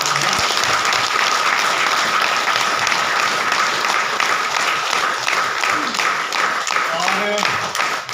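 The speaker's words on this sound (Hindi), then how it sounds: "एक बार नए लोगों के लिए जोरदार ताली बजाते हैं" A crowd at a DXN business meeting claps loudly and steadily to welcome newcomers, dense applause filling the room and fading slightly near the end as a voice begins over it.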